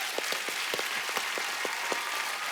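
Studio audience at a Hindi comedy talk show breaks into steady applause, a continuous even wash of many hands clapping with scattered louder individual claps standing out, no voices over it.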